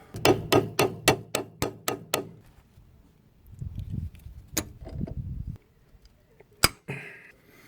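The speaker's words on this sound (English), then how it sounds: "I'll use the 8mm spanner like this, and we'll see if we can tap it on" An 8mm spanner taps a brake hose fitting on a Ford Fiesta Mk6, a rapid run of about eight sharp metallic taps at the start, then low shuffling and a few more isolated clinks.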